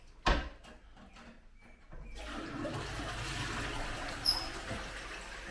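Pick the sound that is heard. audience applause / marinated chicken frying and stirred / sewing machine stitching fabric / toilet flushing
toilet flushing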